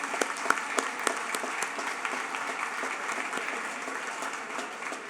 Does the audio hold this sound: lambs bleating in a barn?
no